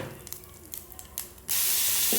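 Mustard seeds sputter in hot oil, with asafoetida, as scattered sharp pops. A sudden loud, steady hiss of spray takes over for the last second.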